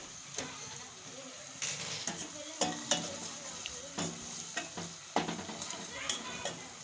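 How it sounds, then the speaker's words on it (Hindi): Turmeric-spiced masala stirred and frying in a pan for lauki chana dal, with a steady sizzle broken by repeated scraping strokes of a spoon against the pan. "हम इसको थोड़ा सा चलाएंगे इस तरीके से। हम इसके अंदर हल्दी ऐड करेंगे।"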